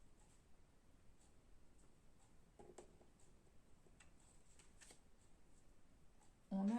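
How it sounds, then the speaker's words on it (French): Tarot cards shuffled and drawn, faint soft flicking and ticking card sounds in a quiet room, with a voice briefly at the end. "Je vais comme tirer une autre carte."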